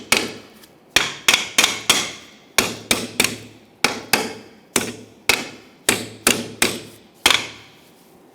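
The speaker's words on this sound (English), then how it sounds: "I'm going to use a hammer and just tap them in, the studs, because they're falling out of my backing plate." A hammer taps wheel studs into the rear hub backing plate of a 2002-2006 Honda CR-V, giving about seventeen sharp metallic strikes in quick irregular groups of two or three, close and loud with short ringing decays.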